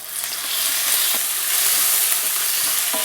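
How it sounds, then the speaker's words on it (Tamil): Onions with a small amount of curry leaves and chopped asafoetida frying in a pan for veg kurma, giving a steady close sizzle with occasional stirring scrapes and no talking. "வெங்காயம் இந்த அளவுக்கு நல்லா வதங்கி வரட்டும்"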